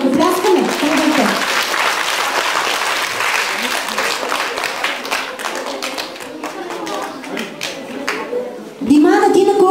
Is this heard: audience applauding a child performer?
yes